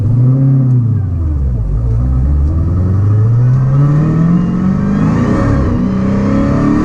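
A car engine revs hard through a second-gear acceleration pull, its loud, continuous drone climbing steadily in pitch with brief dips near the start and end, and no voices.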